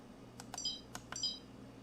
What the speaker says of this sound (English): as I go up and down, you hear that beep sound